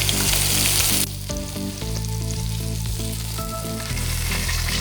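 Pot roast beef searing in a hot pan, a loud, steady sizzle with bright hiss at first that settles into a continuous crackling fry under a low background hum.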